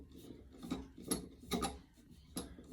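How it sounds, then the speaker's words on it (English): A screwdriver turns a screw into the post of a Moen 1225 shower cartridge, giving quiet, close ratcheting clicks that come in a few short bursts about every half second. "I'm going to grab my screwdriver, get her in there, tighten that down."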